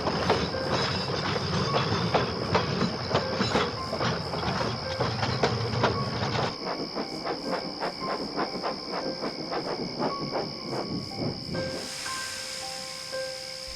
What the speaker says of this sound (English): Gordon arrived at the workstation with his evening express.